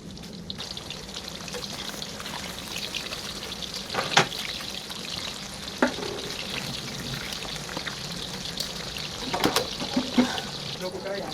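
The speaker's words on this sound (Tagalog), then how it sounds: "Iprito natin ito mga boss." Flour-coated bangus (milkfish) fries in oil in a pan, a steady close sizzle with scattered sharp pops and spatters, moderately quiet throughout.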